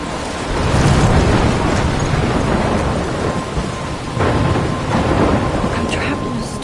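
Video game thunderstorm with steady heavy rain hissing throughout and deep rolling thunder rumbles swelling near the start and again toward the end, loud and close with no talking.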